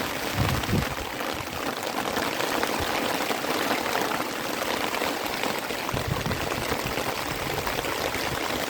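Steady rain pours down during a rainy-season fishing outing, a dense continuous wash of falling water with occasional louder splashes, close and even throughout.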